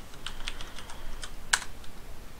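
Short command typed on a computer keyboard in a terminal: a quick run of light key clicks with one sharper keystroke near the end, close and alone.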